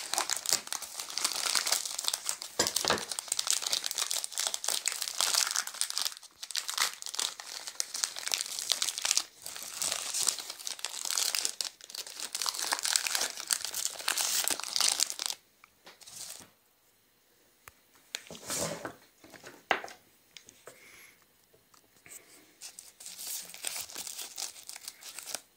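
Crinkly plastic wrapper of a pack of Roshen hazelnut wafers being torn open and handled, a long run of close, dense crackling with short pauses and a quieter stretch partway through, no talking.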